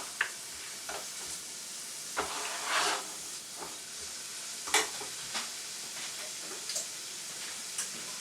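Onion sautéing in butter hisses and sizzles steadily while a spoon stirs it, giving soft scraping bursts at intervals over a constant frying hiss, with no speech.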